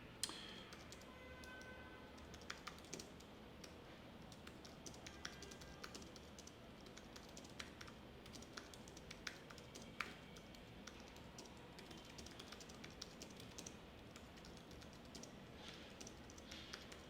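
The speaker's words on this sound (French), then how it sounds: "je lui envoie un message que je vais ici en direct écrire" Steady typing on a computer keyboard as a message is written, a continuous run of close, light key clicks with occasional louder taps over a faint background hum.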